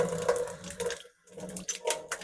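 Cold tap water splashing over a boiled egg in a sink, a close, uneven gushing stream that briefly cuts off before resuming.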